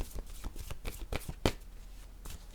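Playing cards being shuffled and drawn in a card reading, a close series of crisp riffling snaps and flicks in short bursts.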